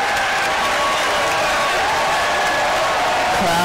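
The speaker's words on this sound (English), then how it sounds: "Crowd trying to get on their feet" A basketball arena crowd at an ODU versus St. Joseph's college game cheers and claps in a loud, steady, dense roar that fills the whole stretch without letting up.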